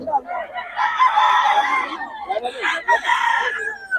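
Close, loud rooster crows, two long drawn-out calls back to back, with some clucking between them.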